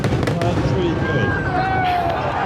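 A fireworks finale bursts over the pavilion at an American theme park, with dense overlapping bangs and crackles and whistling streaks, as excited spectators exclaim and chatter loudly over the display.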